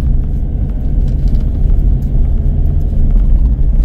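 A Ford Endeavour SUV drives a narrow mountain road near Chitkul in winter Spiti, its steady low engine rumble and road roar filling the clip continuously and close, with no talk.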